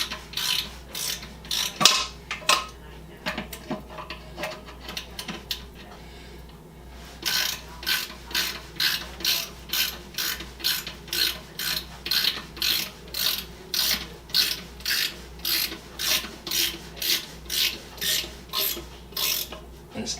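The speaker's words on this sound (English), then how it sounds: "Then we just take the wrench" Ratchet wrench snugging up bolts, giving a few scattered clicks and then a long, steady run of loud, evenly spaced ratcheting strokes up close.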